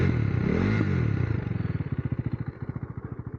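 A 2023 KTM Duke 390 single-cylinder motorcycle engine with stock exhaust idles close by, a loud burst settling into a steady, lumpy putt-putt rhythm of distinct firing pulses.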